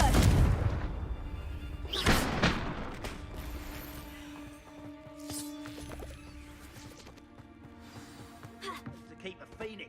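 A Confringo fire spell explodes in Hogwarts Legacy with a loud booming blast at the start, a second strong impact about two seconds in, then a lingering rumble and tonal hum with scattered game effects beneath.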